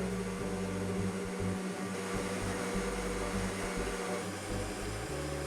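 Electric mixer whipping marshmallow batter made with fruit juice at high speed, a loud, steady motor whir with a low hum running continuously throughout, no voices.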